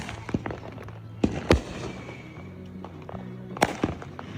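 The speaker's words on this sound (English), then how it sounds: "We're shooting Really right nice up. fireworks from the fireworks farm." Fireworks launched from the street go off in several sharp bangs and crackles, two heavy blasts standing out near the middle and end over steady outdoor background noise.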